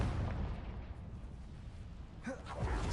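In the video game Hogwarts Legacy, a Confringo blasting spell goes off as one short, muffled blast over a low rumbling background.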